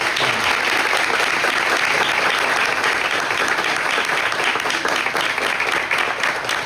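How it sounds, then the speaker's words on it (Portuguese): Audience applause at the close of a televised interview, a dense, steady wash of clapping from many hands, loud and unbroken throughout. "uma salva de palmas"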